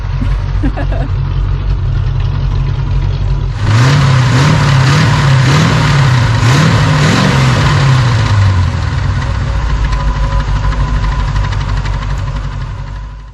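A Chevrolet small-block 350 V8 sputters at low idle, then fires up loudly and revs in a series of rising and falling pulls before settling back toward a rough idle, close by.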